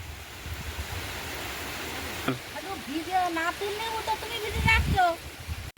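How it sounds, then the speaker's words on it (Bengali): Rain falls outdoors as a soft, even hiss spread across the whole scene, with a person speaking over it partway through and a brief thump near the end. "আবার বৃষ্টি চলে এলো"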